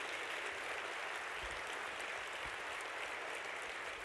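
An audience at a charity luncheon claps steadily for about four seconds, a dense, even wash of applause from a large room with no voices standing out.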